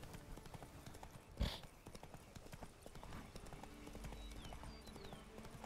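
A horse's hooves clip-clop steadily in The Witcher 3, with a loud thump partway through and a faint whinny-like tone later, under quiet game ambience.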